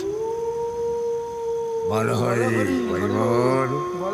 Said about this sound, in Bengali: মাঝে মাঝে শিয়ালের ডাক ও সেই সঙ্গে কুকুরের ক্রুব্ধ প্রত্যুত্তর শোনা যাচ্ছে